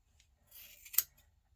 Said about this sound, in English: I will take my scissors and I'm going to go in between these pieces of yarn